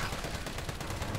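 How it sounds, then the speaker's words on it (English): Gunfire from the Resident Evil 3 video game, a dense run of rapid, loud shots over a steady game soundscape, with no talking. "Just keep shooting you in the face"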